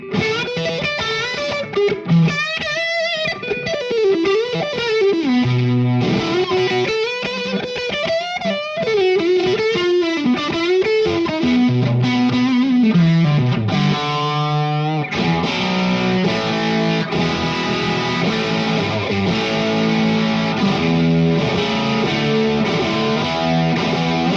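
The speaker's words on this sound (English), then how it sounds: "you just got a really cool kind of like a distorted kind of fuzz distortion sound" Electric guitar played through a King Tone fuzz distortion pedal with the blend turned down, giving a gritty, saturated tone as melodic runs and then sustained chords ring out steadily and loud, with no talking.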